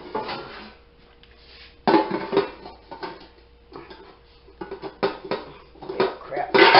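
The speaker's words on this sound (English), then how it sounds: "Let me get my pan." A metal loaf pan, inherited from a grandmother, is pulled out and handled for a foodbank meatloaf, giving several close clattering knocks and scrapes with quiet pauses between them.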